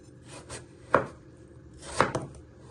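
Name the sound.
knife chopping peeled potatoes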